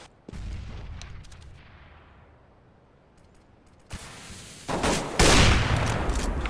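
Gunfire in the video game CS:GO: sharp shots and rapid bursts, quiet stretches between them, then a loud sustained volley near the end.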